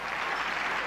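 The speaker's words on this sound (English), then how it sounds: "Big round of applause." Applause rolls through the crowd at a 1993 TV Week Logie Awards ceremony, a short, dense, even burst of many hands clapping at moderate level.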